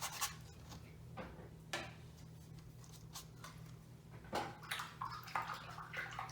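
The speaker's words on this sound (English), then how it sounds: "Clean my brush really good." A watercolor paintbrush swishes and taps in a cup of rinse water, faint repeated sloshes and clicks over a low steady hum, with no talking.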